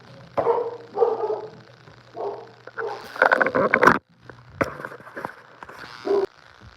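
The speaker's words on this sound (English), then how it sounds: "It's my freaking dog." A dog barks in several loud, close bursts separated by short gaps, with a few yips, heard indoors over a low background hum.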